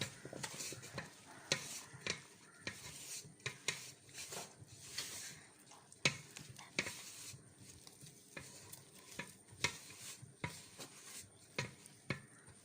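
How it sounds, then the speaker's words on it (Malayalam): Food being mixed by hand with yogurt and lemon juice before chicken goes in, giving soft, close, irregular wet squelches and light scraping against a bowl, fairly quiet and with no talk. "നല്ലോണം മിക്സ് ചെയ്യുക."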